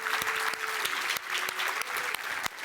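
Audience applause closing a studio event, a steady wash of clapping with sharp individual claps standing out near the front and a faint tone underneath, loud and continuous throughout.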